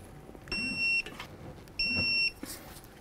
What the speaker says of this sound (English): Let's torque these bolts to 85 foot-pounds.